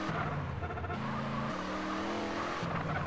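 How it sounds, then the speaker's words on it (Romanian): A secret car in GTA San Andreas drives with a steady engine drone, its pitch stepping up through gear changes over a few seconds, loud and close with no talk. "Mașina secretă din San Andreas"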